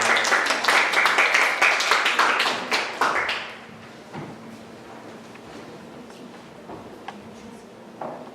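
Audience applause at a Korean-language speech contest for foreign students in Daegu, a dense burst of clapping for about three seconds that quickly fades to a quiet hall with scattered small sounds.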